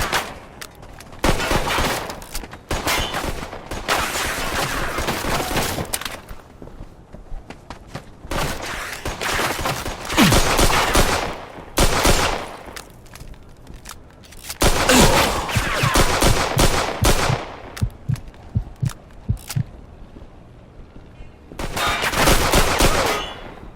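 Bursts of rapid gunfire from the Mafia II Definitive Edition video game, repeated volleys a few seconds long separated by short quieter gaps, loud and close with dense crackling shots.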